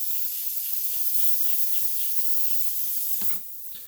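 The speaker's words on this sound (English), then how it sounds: "So spray out, dump it if you'd like, and air on, trigger back, spray." An airbrush sprays cleaning alcohol in a steady, close hiss that holds for about three seconds, then cuts off abruptly and leaves a faint trailing airflow.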